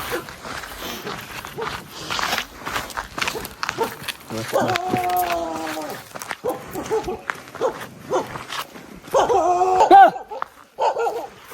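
A dog barks in short bursts at moderate distance, with people talking nearby and occasional footsteps and rustling.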